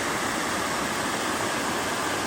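Small waterfall at Bridal Veil Falls in Cuyahoga Valley, Ohio, giving a steady broadband rush of falling water that stays even and continuous throughout, alone with no voices.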